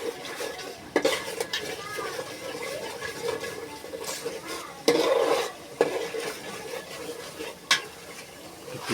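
A spoon stirs chickpeas with jhalmuri spice mix in a pan, giving repeated scraping and knocking strokes against the metal and a few louder clanks, with a light sizzle underneath.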